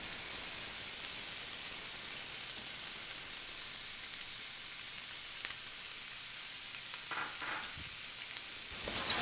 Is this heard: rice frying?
yes